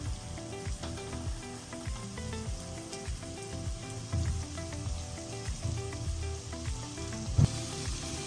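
Tomatoes frying in a pan for mixed vegetable kurma, a continuous close hiss and crackle with scattered stirring scrapes and one sharper clunk near the end, no talking.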